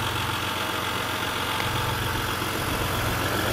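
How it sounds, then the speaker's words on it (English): A 2015 Jeep Grand Cherokee Limited EcoDiesel idles steadily, its diesel engine giving an even, close, continuous clatter and hum with no voices over it. "a diesel engine sound coming from the vehicle versus the gas engine"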